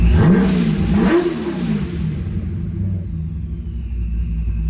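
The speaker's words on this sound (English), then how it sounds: "We'll rev up before I shut it off." A boosted small-block Chevy V8 in an S10 pickup revs up hard, then settles into a loud, rumbling idle that continues throughout.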